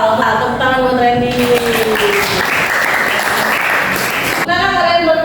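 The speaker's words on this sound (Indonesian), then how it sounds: "tepuk tangan buat Randy" Classroom applause for a student named Randy after he answers a question about transverse waves, a steady burst of clapping lasting a few seconds between stretches of a teacher's voice at the start and end.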